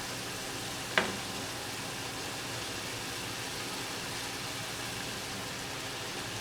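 Sausage and tender zucchini sizzle in a pan on a stove turned down to low, a steady close hiss of frying with one sharp clink near the start.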